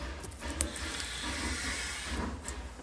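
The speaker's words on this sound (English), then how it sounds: "why so much leaking steam everywhere?" A steam engine leaks steam at a shed, a steady broad hiss that holds throughout, fairly loud and close, with a few faint knocks and no talk.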